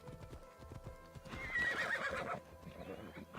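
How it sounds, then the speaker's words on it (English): Video-game horse hooves clip-clop in a steady, quick rhythm while the horse lets out a clear whinny midway, all fairly close and over faint background music. "How do I get off Ella. the horse?"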